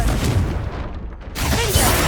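A Confringo blasting spell explodes in Hogwarts Legacy: a sudden broadband burst about two-thirds through, rising out of a dense, rumbling backdrop of game noise and fading into a rolling wash.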